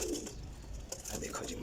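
Teddy Kamagar breeder pigeons give a brief, soft cooing close by, with low murmuring tones over a faint background hum.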